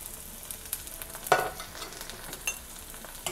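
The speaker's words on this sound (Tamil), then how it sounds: "தக்காளி வந்து ஒரு நிமிஷம் நல்லா வதங்கட்டும்." Chopped tomatoes sauté in a pan with softened garlic and onion, a soft sizzle with scattered clinks and scraping stirs of a utensil against the pan, close and quiet, with no talking.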